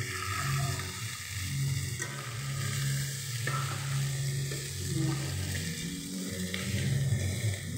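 Paneer curry ingredients frying in a pan, with a continuous loud sizzle, scraping stirs and a few sharp clanks of the utensil against the pan throughout.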